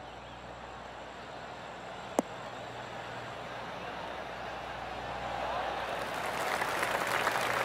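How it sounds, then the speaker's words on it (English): Applause from a virtual golf crowd in a PGA Tour video game swells gradually after a shot, starting quiet under a faint hum, with one sharp click partway through. "That deserves a golf clap."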